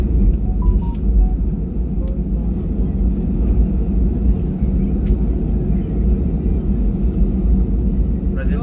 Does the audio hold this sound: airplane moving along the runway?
yes